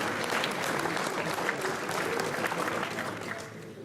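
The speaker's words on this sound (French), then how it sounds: "Mesdames et messieurs, veuillez applaudir comme il se doit, Loïc Mété." Audience applause at a regional FFM Poitou-Charentes enduro awards ceremony, a full burst of crowd clapping that stays dense and even for a few seconds before tapering slightly.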